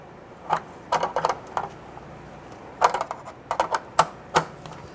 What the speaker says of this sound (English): we'll go ahead and tighten it down with the wrench